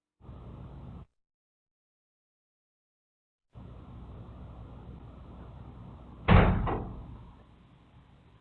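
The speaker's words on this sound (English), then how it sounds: "The door just closed by itself." A door swings shut by itself with a single sharp slam, heard after a low background hum that drops out and returns, then a short fading rattle.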